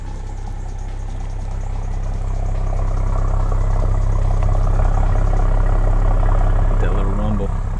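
A BMW M340i with a B58 engine idles outdoors on an overcast day with big raindrops falling, giving a steady low exhaust rumble that runs continuously and swells slightly louder midway.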